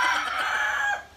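A rooster crows close by in one loud, drawn-out call that tapers off at the end.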